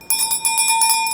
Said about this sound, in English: Let's do a sound clearing with my mother, Oshun's bell.